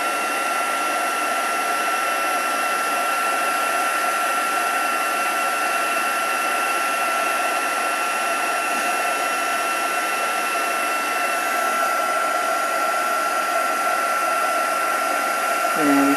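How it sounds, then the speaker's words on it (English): A handheld heat tool blows hot air with a constant high-pitched whine and rushing hiss, loud and steady for the whole stretch. "So heat up your heat tool and then watch the magic."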